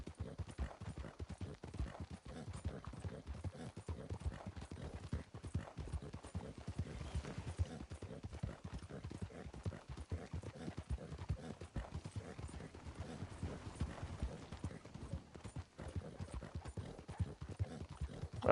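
Horse hooves gallop in Red Dead Redemption 2 on the starting horse, a fast, steady clip-clop rhythm running continuously and fairly loud, with no talk over it.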